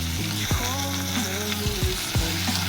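Chopped onion and green chili, with capsicum and tomato, sauté in hot oil for a spicy shevya dish, with a steady close sizzle broken by several sharp scraping strokes of a spoon against the pan.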